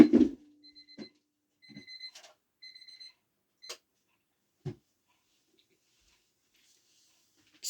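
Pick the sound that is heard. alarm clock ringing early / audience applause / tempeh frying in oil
alarm clock ringing early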